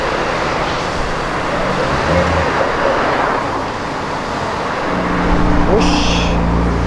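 A BMW drifting on a city street gives a continuous engine and road roar with a deeper rise near the end, heard at moderate distance under brief speech.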